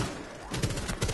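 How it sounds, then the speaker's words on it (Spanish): Rapid bursts of gunfire in Rainbow Six Siege, several loud cracks overlapping during the second half, following a short stretch of steady background noise. "Hay tiros por encima mía."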